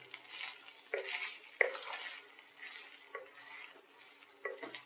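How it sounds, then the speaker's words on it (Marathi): Quiet sizzling of sliced onions frying in a kadhai with occasional scraping and stirring clicks, soft and close. "ते आपण कढईमध्ये भाजून घेऊया."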